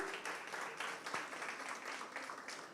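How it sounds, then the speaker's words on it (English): An audience applauds the IIM Bodh Gaya team at a regional quiz round, a soft, even patter of many hands clapping continuously at a distance. "IIM Bodh Gaya, round of applause for them."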